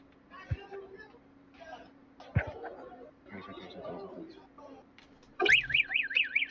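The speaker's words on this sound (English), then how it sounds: "Did he just pull a fucking fire alarm?" A pulled fire alarm starts suddenly and loudly near the end, a rapid warbling electronic siren that cuts in after chatter and laughter from a small group nearby.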